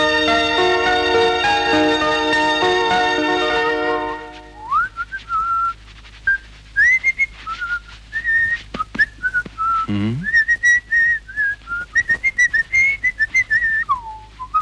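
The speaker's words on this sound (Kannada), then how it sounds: "ಏನೋ ಮರಿ ಜೋರಾಗಿ ಸಿಳ್ಳೆ ಹಾಕ್ತಾ ಇದೀಯಾ?" Loud, clear human whistling runs in a lively tune of short rising and falling notes, heard alone after a held musical chord fades out.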